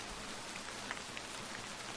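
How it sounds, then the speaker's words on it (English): Steady rain falling in a visual novel video game, a soft, even hiss of drops with faint spatters and no voices over two seconds. "let's wait out the rain there"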